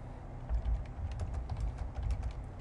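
Quick, irregular clicks of fingers typing on a computer keyboard while entering a profile bio, close and steady with no talking.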